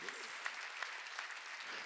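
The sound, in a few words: congregation clapping at a church service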